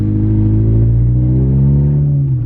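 A Honda CR-V with a transmission problem accelerates gently and then eases off, its engine drone rising and falling in pitch as a loud, steady, close rumble with no talking.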